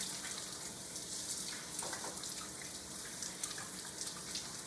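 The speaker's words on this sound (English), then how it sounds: "Stick them back into the water and wash all that soap off" Steady running tap water splashing continuously, with faint hand-rinsing swishes in the stream, fairly quiet and close.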